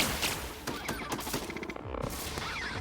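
Rapid gunfire from drones in the video game The Outer Worlds, dense bursts of shots crackling loudly and continuously through the whole stretch with no voices.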